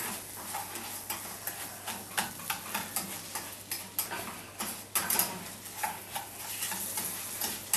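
Butter and sugar melting in a pan for an apple cake sauce, stirred with a utensil that scrapes and taps the pan in a steady rhythm over a soft sizzle, close and fairly quiet.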